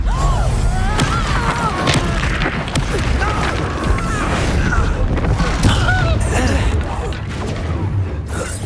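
Exploso spell blasts in Hogwarts Legacy, loud booms and crashing impacts piling up through a busy fight, with a voice talking over them.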